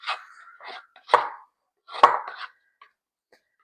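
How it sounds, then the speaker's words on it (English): A flexible bench scraper scrapes sourdough down the sides of a bowl in a few short, close passes, with brief scraping strokes and soft knocks separated by quiet gaps. "I'm just gonna scrape down the sides just to make sure all my dough is together in the bowl"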